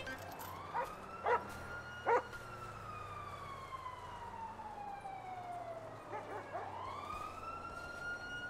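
Police dog in a police video game barking in a few short, sharp yaps early on, set against a loud wailing siren that sweeps up and down throughout.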